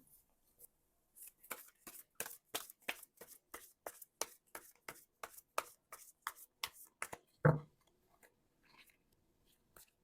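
Tarot cards being shuffled close up in a quiet room, a regular run of soft crisp riffling taps, then a single louder snap as a card is drawn, followed by near silence.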